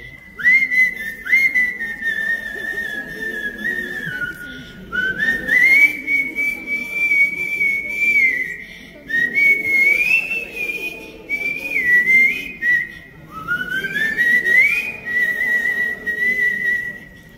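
Someone whistles a melodic tune in long, wavering phrases with short pauses between them, clear and close.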